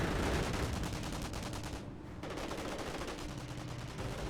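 Rapid bursts of small-arms and machine-gun fire crackle almost nonstop in a Company of Heroes battle between German Wehrmacht and US forces, dense and loud with a brief lull midway.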